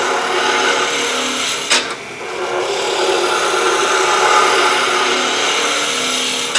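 A lathe tool cuts into a wooden spiral goblet, giving a steady, continuous rasping scrape close by that runs throughout, broken only by a brief sharp knock partway through.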